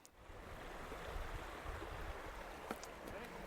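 A river runs between two bogs along a snowy woodland hiking trail, making a steady, broad rushing wash of water that fills the scene without a break, fairly close and even in level.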